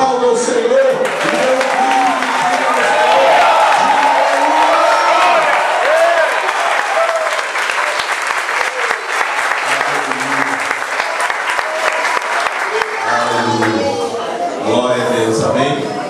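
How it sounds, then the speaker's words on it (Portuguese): A church congregation applauds the Lord during a worship service, loud sustained clapping with cheers and whoops from a large crowd, and voices rise over it as it thins toward the end. "Se isso é real, aplauda o Senhor."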